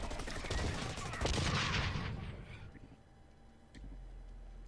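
Video game gunfire from the shooter Blacklight Retribution on PS4, a loud stretch of rapid shots and bursts that fades toward the end, followed by quieter background sound and a faint voice.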